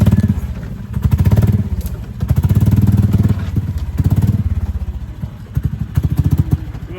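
Predator 459cc engine running loud and close during a lap around a yard track, its rapid pulsing exhaust rising and falling with throttle, with clattering mixed in.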